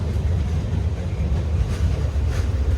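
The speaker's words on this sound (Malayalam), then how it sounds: "മൈജിയുടെ പരസ്യം ഒട്ടിച്ച ഒരു WP4 ലോക്കോ ആണ്." A WP4 diesel locomotive hauls an express train past, a dense, steady low rumble and roar with no breaks or pauses.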